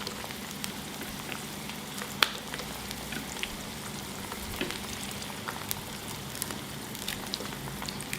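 Chili peppers fry in hot oil with a steady, crackling sizzle and scattered pops, continuous and moderately quiet throughout.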